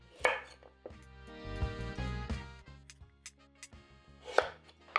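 A knife roll-cuts carrots on a cutting board, giving a series of irregular, close, crisp chopping thuds with ringing tonal overtones, some sharp clicks between strokes and no one speaking.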